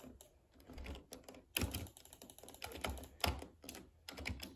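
Close, sharp computer mouse clicks come in irregular bursts during a shooting game, with some louder clicks standing out from lighter ones.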